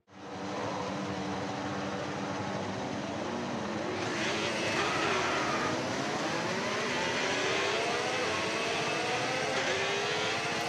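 A grid of Formula 1 cars in a racing video game pulls away on the formation lap, a steady loud engine drone that rises in pitch with rising sweeping whines as the cars accelerate.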